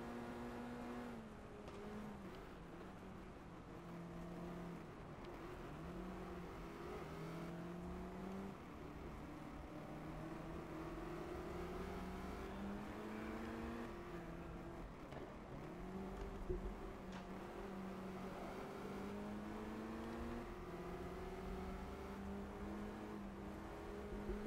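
Engines of a Lotus Cortina and a Mustang racing at Anderstorp South in GT Legends, a continuous fairly faint whine rising and falling through gear changes, with no talking.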